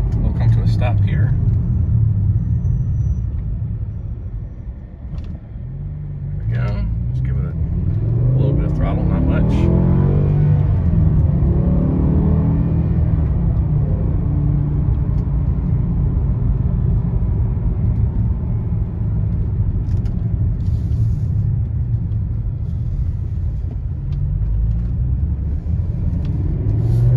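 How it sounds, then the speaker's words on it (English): A BMW E60 M5 driven in M mode with automatic shifting, its engine a loud, steady low rumble from inside the cabin that dips briefly around a stop, then rises again as the car pulls away, with talk over it. "I decided to put it into automatic shifting so you guys can see kind of how that works"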